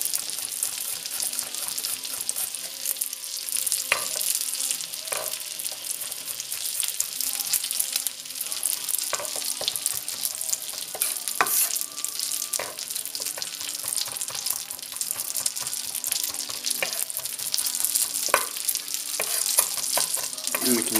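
Garlic fries in a pan for pumpkin and polenta wedges, giving a steady broadband sizzle with scattered scraping stir clicks throughout, fairly close and without talk.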